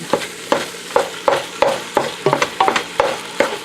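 Ground meat stirred and chopped in a hot pan for shepherd's pie, a regular series of scraping knocks about every half second over a steady sizzle, close and alone with no talking.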